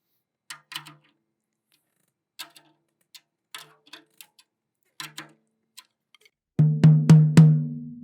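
A drum is tightened with light metallic taps on the tension rods and head, scattered and quiet, before the head is struck several times in a rhythm, each hit a close, resonant tonal thump.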